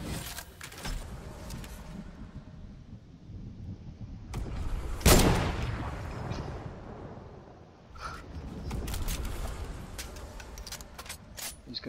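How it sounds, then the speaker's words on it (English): A single sharp gunshot blast from the Fortnite video game stands out amid low in-game ambience and quiet background talk. "He just stood there and let you shoot him."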